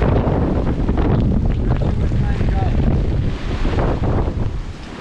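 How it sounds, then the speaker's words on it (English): Strong wind at sea buffeting a sailboat, a loud continuous roaring rush with heavy microphone wind noise and faint water sounds, steady throughout. "The wind is turning in our face, man. The wind is southeasterly right now."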